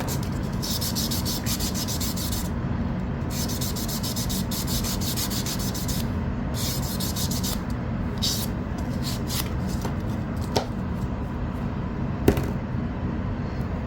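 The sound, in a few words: filing a template edge with a hand file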